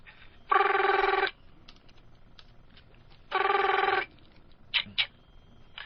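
Two long electronic telephone rings on an outgoing call, with a pause between them, heard through a phone line during a radio show, followed by faint clicks.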